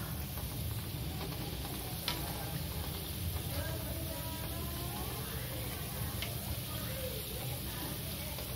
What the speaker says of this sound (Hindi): मैया तेल में पूरी छोड़ रही हूँ